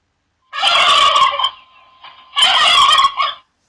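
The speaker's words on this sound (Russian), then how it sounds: "Индюк." A turkey gobbles loudly in two rapid, rattling bursts about a second apart, close and clear, from a children's animated cartoon on animal sounds.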